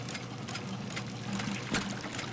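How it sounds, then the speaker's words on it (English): Sewage-laden water being sucked through a large pipe in London's sewers in Sherlock Holmes: The Devil's Daughter, a steady gurgling, rushing flow with a brief louder surge partway through, no talking. "That is the noise of water filled with shit being sucked through a large pipe."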